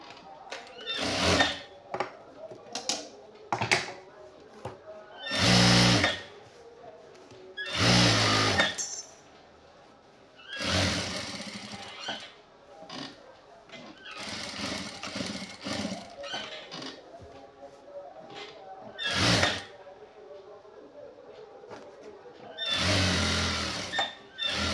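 Sewing machine stitching khadi cloth shorts, running in bursts of rapid whirring stitches separated by short pauses, close and fairly loud.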